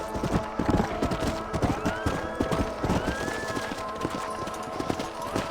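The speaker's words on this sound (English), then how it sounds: "Stay with the horses." Horse hooves clip-clop quickly and continuously in the Red Dead Redemption video game, a dense close gallop with a brief whinny mixed in over game ambience.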